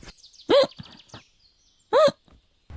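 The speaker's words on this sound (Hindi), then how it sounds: "तभी उसे बहुत ज्यादा हिचकी आने लगती है" A cartoon character hiccups twice, about a second and a half apart, each a sharp, loud, squeaky vocal hic, with a faint bit of sound effects between them.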